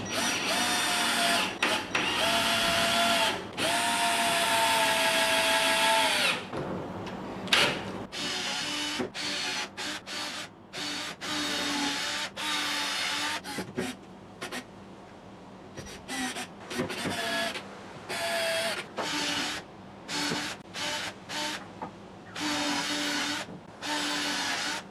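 Power drill boring holes through wooden boards while building a cheap potato box, heard as loud sustained whirring bursts, long at first and then shorter repeated runs with brief pauses between them.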